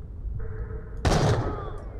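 A single loud gunshot bursts out in the shooter game Borderlands The Pre-Sequel, after a brief electronic hum, then fades into a short reverberant tail with no talking.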